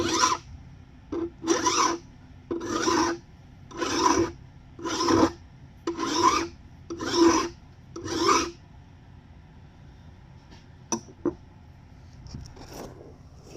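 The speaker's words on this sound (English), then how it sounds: "I skew the file a little bit so I can get a hand on each side and just run it." A hand file is drawn across the teeth of a vintage handsaw in eight even rasping strokes about one per second, close and clear, followed by a few light clicks and taps.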